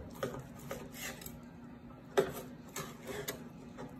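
Knife slicing a reverse-seared, crust-coated bone-in ribeye along the bone, giving a few light scraping and tapping contacts against the board, close and quiet.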